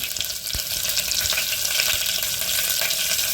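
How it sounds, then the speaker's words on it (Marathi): Green chillies hit hot oil as a tempering for a cluster-bean curry, producing a loud, continuous close-up sizzle with a few faint knocks underneath and no speech. "एक तडका मिरची टाकायची या हिरव्या मिरच्या टाकायच्या"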